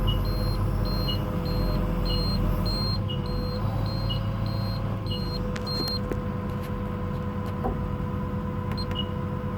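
Short electronic beeps from an Engcon tiltrotator control on an excavator repeat at a steady pace over a constant engine rumble, then stop, with a single beep returning near the end.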